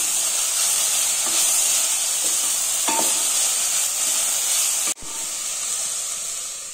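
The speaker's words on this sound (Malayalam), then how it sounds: "2 പച്ചമുളക് കീറിയതും കൂടെ ഇട്ട് കൊടുത്തിട്ട് നന്നായിട്ടൊന്ന് ഇളക്കി കൊടുക്കാം." Curry leaves and slit green chillies sizzle and hiss steadily in hot oil in a frying pan, with a few soft stirring scrapes and a brief dip near the end, no talk.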